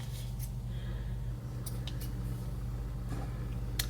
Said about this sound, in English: and snip that off.